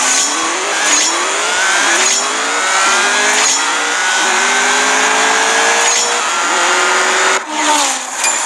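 McLaren 650S engine revving hard in the CSR Racing 2 racing game, a loud sustained rising whine that climbs through gear shifts with brief drops between them.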